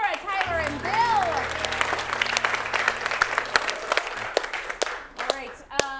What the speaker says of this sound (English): So a round of applause for Laura, Tyler, and Bill.